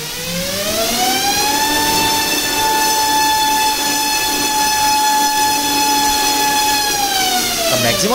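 A Racerstar brushless motor spinning a propeller on a DIY thrust test rig, a loud whining tone that rises quickly, then holds a steady high pitch before dropping off at the end.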